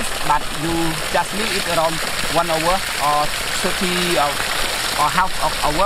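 Water from a deep river rushes steadily through a pipe into a tank, a continuous broadband hiss under someone talking throughout.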